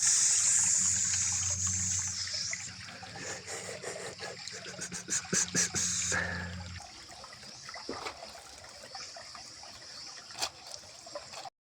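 A countryside stream: steady rushing water fills the opening seconds, then quieter trickling and splashing continue, with a few sharp knocks and rustles nearby.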